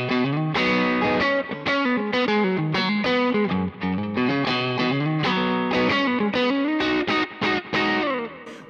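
Distorted electric guitar played through a Kemper cab profile miked with a Shure 57, heard as a loud, continuous run of chords and riffs with steady sustain and no voices.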